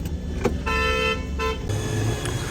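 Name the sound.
car arriving at auto shop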